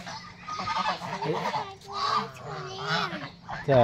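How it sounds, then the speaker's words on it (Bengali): Domestic geese on a farm honk repeatedly at close range, several loud nasal calls overlapping one another in quick succession. "এগুলো কার রাজহাঁস?"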